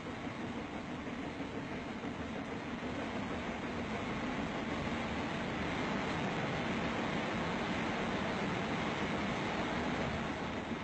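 Steam locomotive Sir Nigel Gresley running on a rolling road test rig, a dense, continuous mechanical rumble and rush that holds steady and fairly loud throughout.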